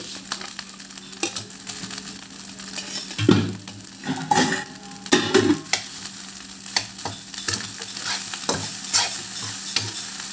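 Rice seasoned with ajwain is stir-fried on high flame, the pan hissing steadily while a spatula scrapes and clatters in bursts against the pot, with nobody speaking.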